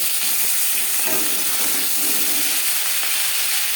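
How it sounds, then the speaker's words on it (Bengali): Bhola fish, a sea fish, fries fairly crisp in hot oil, a continuous close sizzling crackle with no voices over it. "আমি একটু কড়া করেই ভাজলাম"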